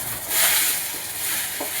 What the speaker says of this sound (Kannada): ಈರುಳ್ಳಿ, ಹಸಿಮೆಣಸಿನ್ಕಾಯಿ, ಟೊಮೆಟೊ ಹಾಕ್ಕೊಂಡು ಅದನ್ನು ಕೂಡ ಚೆನ್ನಾಗಿ ಹುರ್ಕೊಳ್ತಾ ಇದ್ದೀನಿ